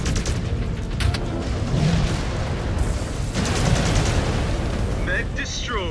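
Battle sounds from the MechWarrior 5 video game as an enemy mech is destroyed: dense rumbling booms, gunfire and explosions at steady loudness, with sharp metallic crackles near the end.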